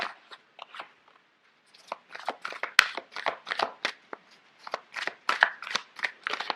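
Large, stiff cards are riffled and shuffled in quick bursts of crisp slapping clicks, paused briefly, then resumed up close.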